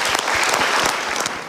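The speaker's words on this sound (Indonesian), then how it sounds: "Kita berikan tepuk tangan untuk Pak Benny." Dense, steady applause from a seminar audience at a Mario Teguh motivational show in Indonesia, honoring a man named Benny, filling the short stretch with continuous clapping at an even level throughout.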